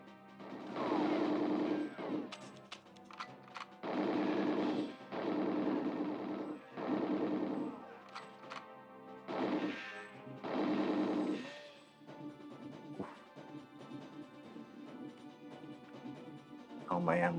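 Gunfire in GoldenEye 007 comes in dense bursts of rapid shots separated by brief pauses, loud and close, while a player talks over part of it.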